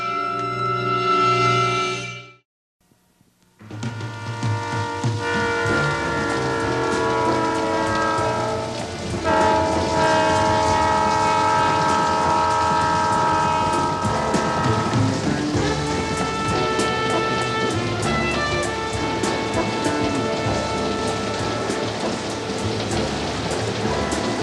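Steady rain patters on a surface with a deep train horn and rumbling rail noise, after a brief pause near the start; no talking.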